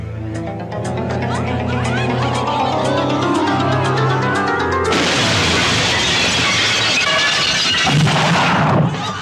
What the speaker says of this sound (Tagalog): Ay, nakaputok na! Ay, putukan na mga kaibigan!